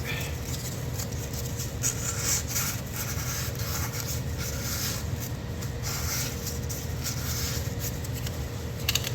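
Wet-dry sandpaper of 600 grit rubs over an aluminum engine part to take off rust, a steady close scratching and rasping that continues without a break throughout.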